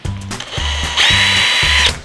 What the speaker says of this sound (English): I like to pre-drill.